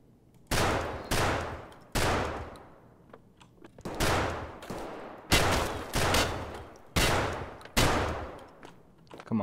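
A shotgun fires in Escape from Tarkov, about nine loud booming blasts at roughly one-second intervals, each trailing off in a short echoing decay.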